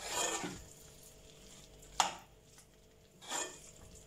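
Tomato rice being stirred in a pan, a few separate scraping strokes of a spoon against the pan spaced about a second apart, quiet and close with a faint background hum.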